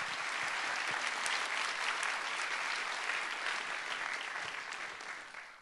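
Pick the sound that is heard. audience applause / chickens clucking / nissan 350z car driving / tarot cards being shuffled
audience applause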